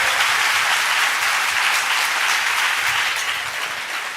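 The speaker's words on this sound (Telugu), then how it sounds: "చప్పట్లు కొట్టి మహిమ పరుద్దాం." A church congregation claps together in praise, dense sustained applause from many hands, loud and close, gradually easing toward the end, with no talk over it.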